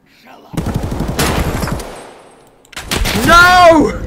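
Gunfire in the Escape from Tarkov video game, a dense rapid burst of automatic shots followed after a pause by another loud burst, with a gun jam occurring around the exchange.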